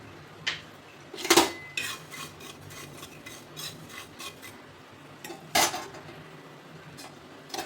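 Sesame seeds dry-roast on a tava, with a soft, steady rasp under a few sharp metallic scrapes and clinks of a spatula stirring the seeds; no one speaks.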